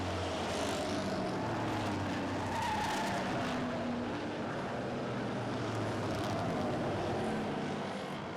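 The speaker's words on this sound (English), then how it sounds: "Travis Halliburton slideways through the corner 4." Race cars sliding through a speedway corner, a dense continuous roar of engines with skidding tires, loud and steady throughout.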